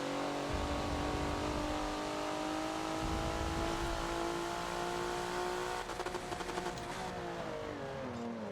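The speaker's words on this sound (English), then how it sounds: "look at that Porsche slide" A Porsche sliding around the Lime Rock track in the racing video game Forza, its engine holding a steady high revving drone that shifts pitch, with a rougher scrabbling texture near the end; no voices.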